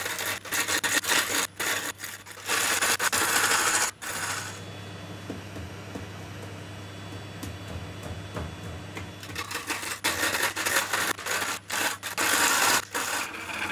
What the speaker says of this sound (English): using the bowl gouge to start with, cored out the rest of the bowl centre